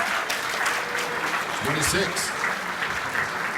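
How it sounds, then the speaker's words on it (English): Applause from an awards-night audience for the finalists, steady broadband clapping throughout with a voice speaking briefly in the middle. "big round of applause for the finalists tonight"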